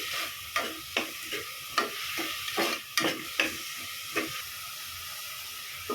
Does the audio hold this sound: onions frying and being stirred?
yes